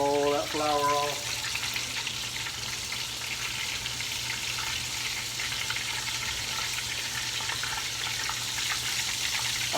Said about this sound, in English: I listen to the bubbles in the grease while I'm frying.